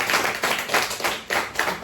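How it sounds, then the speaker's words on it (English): Clapping from the audience at a live crime fiction author panel, rhythmic bursts of hands clapping fairly close and loud, rising and dipping in waves across the short span. "please give my authors a huge round of applause"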